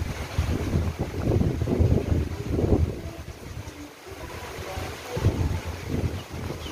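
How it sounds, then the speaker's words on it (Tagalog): Strong, swirling typhoon wind during Typhoon Odette in Ubay, Bohol, roaring and gusting in uneven surges with buffeting rumble on the microphone, fairly loud and continuous with no voices. "Ano-ano ang hangin, paikot-ikot."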